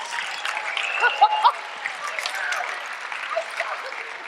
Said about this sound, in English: Hey, big round of applause for Jason, because he's going to come out now.